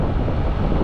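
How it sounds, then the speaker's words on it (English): Strong gusting wind buffets the microphone outdoors in the Kanchanaburi countryside before a storm, a continuous loud low rumble filling the whole moment with no voices. "It's really windy all of a sudden"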